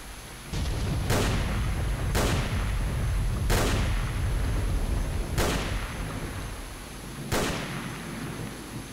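Gunfire in the game S.T.A.L.K.E.R. Shadow of Chernobyl: five loud, sharp reports spaced about a second apart, each with a booming tail, over a constant low ambient rumble and no talk.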